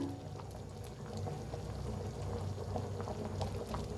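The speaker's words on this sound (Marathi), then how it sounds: "सांबर आपला मस्त शिजायला लागलेला आहे" Sambar with brinjal simmering in a pot, a steady bubbling and gentle boiling burble that continues evenly throughout, close and moderately loud with no talking.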